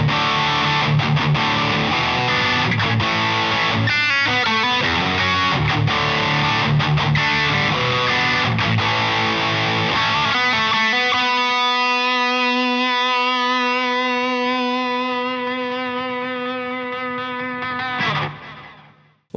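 A heavily distorted electric guitar through a Walrus Audio ERAS distortion pedal in silicon clipping mode chugs rhythmic chords, then lets one fuzzy, scooped chord ring out and sustain before it cuts off.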